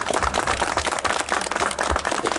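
A crowd claps steadily and densely for three grandchildren at the inauguration of a pacifist walking path in the Creuse, with a continuous, close wash of applause filling the short moment and no words spoken.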